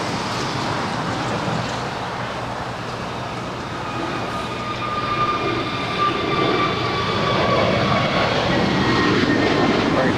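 American Airlines jet airliner, flight 608 to Philadelphia, at Los Angeles LAX, giving a steady loud engine roar with rising whine tones, swelling slightly louder toward the end, with no talk.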